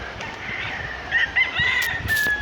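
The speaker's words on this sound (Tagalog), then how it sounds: "Mga manok lang siya guys." Chickens cluck and call nearby, with a faint rooster-like crow rising over a soft outdoor background.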